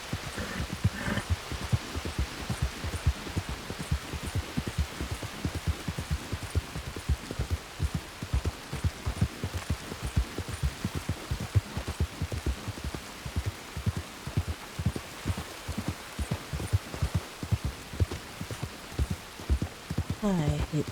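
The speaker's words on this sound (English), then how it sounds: "I hate the rain." Steady rain in Red Dead Redemption 2, a dense continuous patter with dense drop-like ticks throughout, loud and close, with no voice over it.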